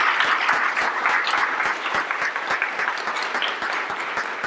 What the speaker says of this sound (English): I want everybody to give a big round of applause to Jason, to the Charns family